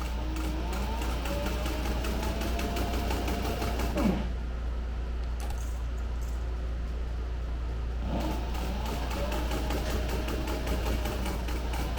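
A sewing machine stitches a cowhide leather bag in a steady, rapid mechanical whir that pauses for a few seconds midway and then resumes, close and continuous.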